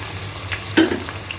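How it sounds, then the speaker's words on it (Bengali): Chopped onions hit hot oil with whole garam masala spices, a constant sizzle over a low hum, with one sharp clatter midway. "আমি পেঁয়াজ কুচিগুলো দিয়ে দিচ্ছি।"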